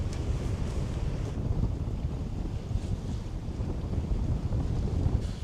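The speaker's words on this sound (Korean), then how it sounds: "와, 바람이 조금 부네요." Strong seaside wind buffets the microphone along an island coastal walking trail, a constant low roaring rumble with gusty swells, with faint wave wash beneath and no voices.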